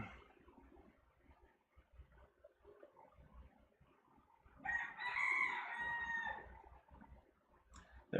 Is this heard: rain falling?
no